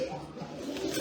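A black pigeon at a Jordanian bird market gives a brief, low, steady coo, close and clear, over soft background noise.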